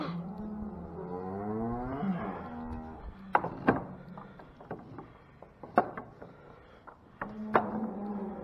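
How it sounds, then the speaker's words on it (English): Cattle are loaded onto a trailer, with a long low moo rising and falling at the start and another later, among sharp metallic clanks and thumps of hooves and gates. "we're gonna bring the max cows out"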